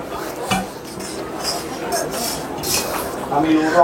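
Cast iron kitchen cookware picked up and handled, giving clinks and scraping knocks of metal mixed with speech.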